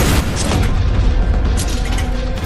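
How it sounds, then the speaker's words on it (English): A Vengeance Launcher blast in the shooter game Warhammer 40K: Boltgun, played in Horde Mode, gives one loud, dense, sustained explosive roar with rumbling low end that holds steady for the whole stretch. "so that was the Vengeance Launcher, which, like I said, is sort of a delayed... Almost a delayed sticky RPG"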